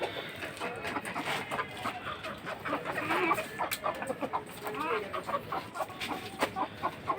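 Chickens and a large rooster on a poultry farm at night cluck repeatedly in short, overlapping bursts, a busy flock murmur heard fairly close and steady over a faint background hiss.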